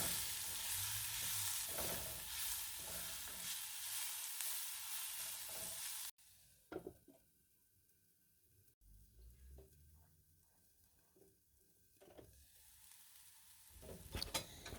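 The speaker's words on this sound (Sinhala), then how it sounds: "ඔක්කොම ටික හොඳට බැදෙන්න අරිනවා" Dried sprats fry in oil with ivy gourd in a Sri Lankan pan: a faint hiss at first, then quieter, scattered clicks and scrapes of stirring.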